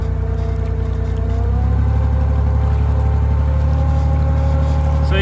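A home-built diesel engine thuds inside a small submarine at roughly 1,000 RPM, loud and close, its steady rumble rising in pitch as the throttle opens early and then holding an even, throbbing drone.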